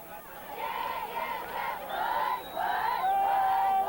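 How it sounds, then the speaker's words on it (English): High school football fans in the stands cheer their teams at a 1993 Eaglecrest versus Regis game, a sustained roar of crowd voices and shouts that swells and rises toward the end. "cheering their teams on"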